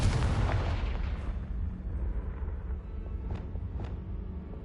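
A Confringo spell bursts in Hogwarts Legacy with a loud, deep explosive boom that decays into a rumbling tail, followed by a couple of faint crackles.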